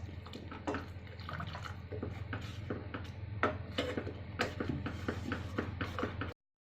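Water is added to palak cream soup in a pot, with soft splashes and drips, a few light clinks of utensil against cookware, and a low hum underneath; the sound cuts off abruptly.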